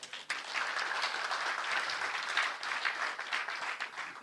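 Audience applause at an international conference closing ceremony, steady and dense clapping that fills the room for several seconds without a break, close and moderately loud.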